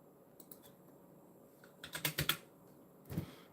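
Several quick keystrokes on a computer keyboard, close and fairly soft, come in a loose cluster in the middle and then one final pair of taps, with no talking.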